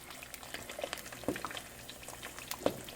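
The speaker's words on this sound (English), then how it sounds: "It was clear, now the eggs are getting cooked." Eggs cook in a pan with a faint bubbling sizzle and scattered soft pops and crackles, quiet and close.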